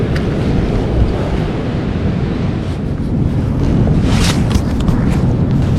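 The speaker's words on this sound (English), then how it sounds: "You can hear the wind whipping" Strong gusty wind whipping outdoors beside a river during a high wind warning: a loud, steady low roar buffeting the microphone, with brief airy swells, no talk.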